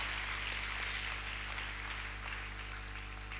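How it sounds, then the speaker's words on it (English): A seated audience at a student mentorship programme inauguration applauds steadily, a dense and fairly faint wash of clapping that holds evenly throughout with a low hum underneath. "let's clap for them"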